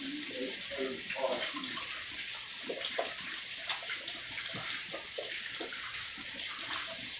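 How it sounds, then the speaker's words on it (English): A tap runs steadily while someone washes their hands before preparing a turkey, with splashing water throughout and a person speaking over it. "wash them real good"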